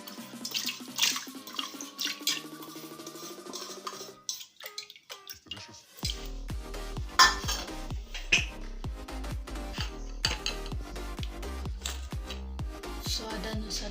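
Water pours and splashes into a pressure cooker as mung dal is tipped in, with trickling and dripping sounds that give way to a louder, steady pour and clatter in the second half.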